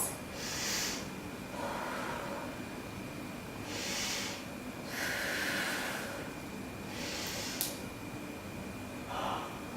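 Slow, deep breathing during yoga poses, with soft airy inhales and exhales repeating every couple of seconds, close and quiet with no talking.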